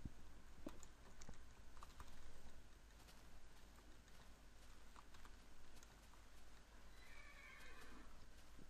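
A horse in the Minecraft video game gives a neigh amid a steady wash of game ambience, with faint clicking and clip-clop-like taps scattered throughout, fairly quiet overall.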